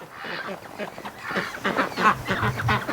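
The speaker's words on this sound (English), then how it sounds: "Oh, the duckies. They're coming to the gate." Ducks waddle toward a farmyard gate near a barn, quacking in short bursts close by while a person keeps talking over them.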